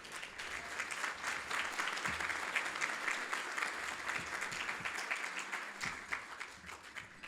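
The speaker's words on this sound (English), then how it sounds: "please give a big round of applause to all of you and the entire team of Sea International" An audience at an eye hospital's 50th-anniversary presentation gives sustained applause, a dense even clatter of many hands that carries on for several seconds, fairly faint overall and with no talk over it.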